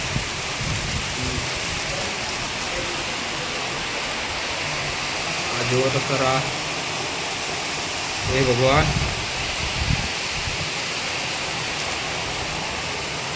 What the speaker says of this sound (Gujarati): કેટલો મુસળધાર વરસાદ કેવો પવનની સાથે આવતો છે